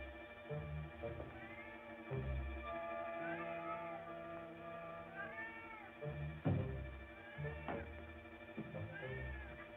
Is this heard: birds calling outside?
no